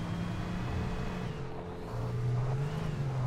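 A car in the Alan Wake video game strains uphill in first gear, its engine droning steadily and rising slightly in pitch near the end.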